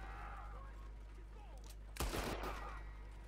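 A sharp burst of gunfire in the video game Red Dead Redemption 2 partway through, loud and crackling, with a brief reverberant tail over a steady low background hum.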